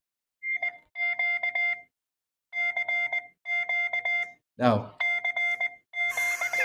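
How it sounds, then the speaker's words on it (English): A phone ringtone plays Morse code CQ as bursts of clipped electronic beeps in a dotted, rhythmic pattern that repeats several times, clear and fairly close, with one brief spoken word cutting in partway. "if you'll call me, you'll understand what my ringtone is"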